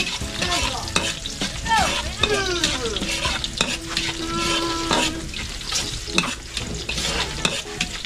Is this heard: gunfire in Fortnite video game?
no